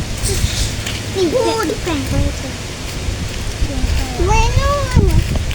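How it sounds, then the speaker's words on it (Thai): Steady rain falling in a Thai village during a week of downpour, a constant wash of hiss throughout, with a person talking over it. "ฝนตกพี่น้องเอ้ยตกอาทิตย์หนึ่งทั้งอาทิตย์เลยพี่น้อง"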